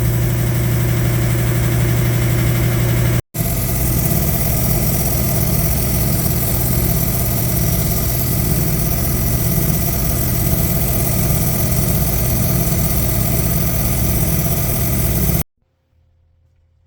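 A saw grinds steadily through petrified wood, a loud continuous droning motor hum with a smooth even cutting tone, briefly cut off partway and ending abruptly into quiet.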